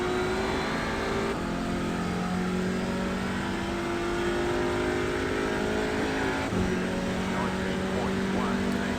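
An Audi RS3 race car engine in an iRacing race at Suzuka roars continuously, loud and close, with sustained high revs and abrupt gear-shift drops. A voice talks underneath.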